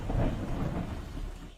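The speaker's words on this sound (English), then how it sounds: "you sure this is the right place to be in a thunderstorm?" A thunderstorm scene from the TV show The Last of Us: a low rolling rumble of thunder with rain hiss, fairly faint and continuous.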